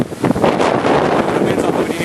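Strong tornado wind roars and buffets the microphone in a steady, loud, rushing wash of noise.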